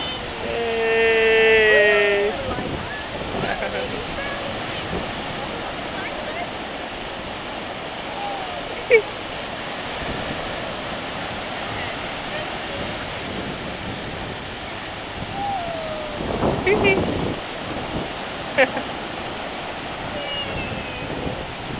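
Ocean waves and surf rush steadily near the shore in a continuous broadband wash, with a few brief louder bursts and faint voices briefly audible.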